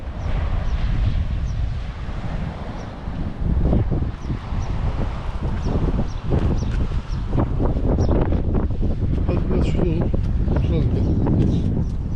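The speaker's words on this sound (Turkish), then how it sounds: "Çok rüzgar var bugün ya." Strong gusty wind buffets the microphone in a constant low roar, with faint indistinct voices underneath.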